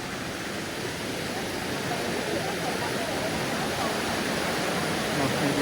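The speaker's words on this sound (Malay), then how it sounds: "Oh, dia jadi air terjun." A waterfall on the Kanching river in Rawang, Selangor, Malaysia, roars as a loud, dense, unbroken rush that holds steady throughout, with no voice heard over it.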